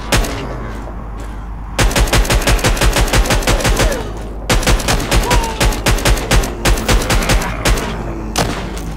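Automatic gunfire in the zombie shooter video game The Walking Zombie 2, two long rapid bursts of loud close shots separated by a brief pause, with no talking.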